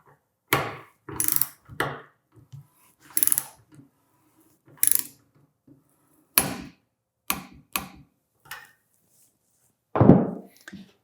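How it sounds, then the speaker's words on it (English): A torque wrench ratchets and clicks as it tightens a 5.56 rifle muzzle device to 35 foot-pounds in a bench vise. Close, loud bursts of ratcheting come in short separate strokes with pauses between them. "We're going to torque this down to 35 foot-pounds."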